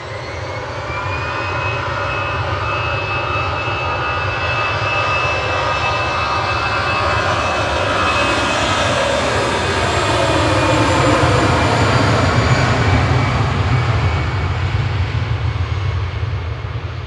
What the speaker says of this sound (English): EasyJet departing here to Naples.